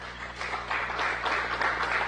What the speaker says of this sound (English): to a round of applause